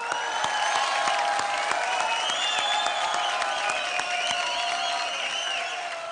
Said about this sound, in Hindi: जोरदार तालियां टीना के लिए।